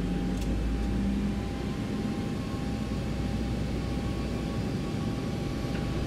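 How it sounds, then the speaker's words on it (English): Boeing 737 in the X-Plane 11 flight simulator building up for takeoff, a steady loud broadband jet engine roar with a constant low rumble and faint tonal whine. "we are going to approach the runway now and going to take off immediately."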